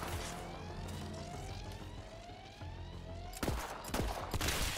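Gunfire in the VR version of Borderlands 3, with sharp shots bursting over a busy game soundscape of sirens and effects, the loudest cracks clustered near the end.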